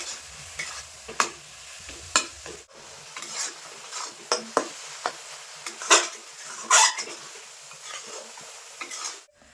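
A coconut and jaggery filling for milk puli pitha is stirred in a wok on a gas stove, with a soft steady sizzle and repeated scraping strokes of a spoon against the pan.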